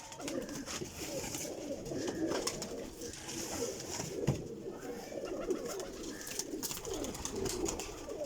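A flock of about twenty pigeons, flying breeds kept for sale, coo steadily and overlapping, with soft low murmurs running throughout at moderate closeness.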